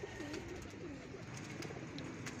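A crooked-bodied pigeon cooing softly in a rooftop loft, a few low rolling coos repeated over a faint, steady background hiss, quiet and somewhat distant.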